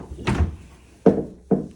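A household fridge door thuds shut three times in quick succession during a move-in inventory check of a rental property, each bump close and fairly loud with a short ringing tail.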